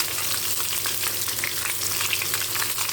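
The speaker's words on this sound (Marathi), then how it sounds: "कांद्याबरोबर टाकूया आल्याचे तुकडे." Onions and chunks of ginger fry in a pan over a low gas flame, giving a steady, close, dense sizzle with faint stirring and no talk.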